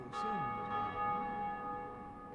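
A large bell rings in Dark Souls Remastered, one clear struck tone with long, shimmering sustained overtones that slowly decay, heard alone and close.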